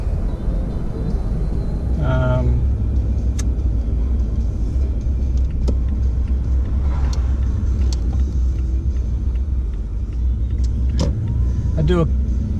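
A car drives through New Westminster city streets, a steady engine and road rumble running throughout with brief mechanical whines and clicks, while someone talks over it.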